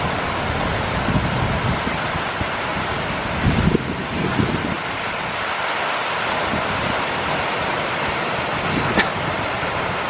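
Wind and sea waves around a very small wooden fishing boat out for tuna, a loud constant rushing wash with gusts buffeting the microphone and a few louder surges.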